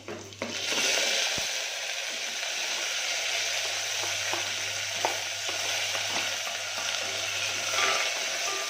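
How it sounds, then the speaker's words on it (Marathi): Garlic, curry leaves and onion sizzle steadily in hot oil in a pan, a continuous close frying hiss with a faint stir at the start, no voices. "आता टाकूया आपण लसूण कढीपत्ता आणि कांदा मी सोबतच टाकते"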